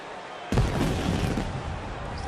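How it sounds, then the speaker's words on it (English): Pyrotechnic fireworks burst for Judge Dredd's entrance at a Megacity Wrestling ring, a sudden loud blast after half a second of quiet followed by sustained crackling, hissing roar that fills the arena and stays dense to the end. "There's the fireworks for Dredd's entrance."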